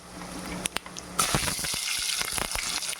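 Onions and garlic hit a hot pan and start frying: a couple of sharp clicks, then a close, steady sizzle and crackle with scattered pops that keeps going to the end.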